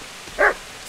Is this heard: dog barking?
yes